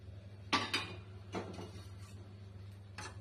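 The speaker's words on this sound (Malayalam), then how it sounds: "വീണ്ടും മിക്സ് ചെയ്ത് കൊടുക്കുക." Wheat bread upma with salt, green chillies and curry leaves is stirred in a pan. A few sharp spoon scrapes and clinks sound close up against a low background hum.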